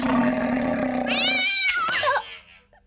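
A cartoon cat gives a drawn-out, wavering meow that rises and bends in pitch. A steady tonal hum sits underneath and ends as the meow begins, and the call fades out at the end.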